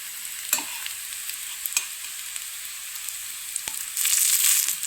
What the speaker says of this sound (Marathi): आता बाकीचे सगळे आपण ते शॅलो फ्राय करून घेऊया.